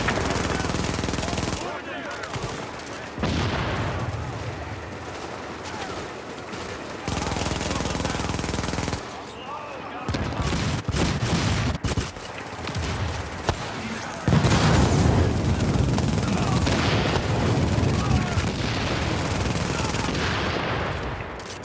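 Heavy gunfire in a video game battle at Grand Central: sustained rattling bursts of automatic weapons and occasional booms run close and loud throughout, with game voices heard beneath.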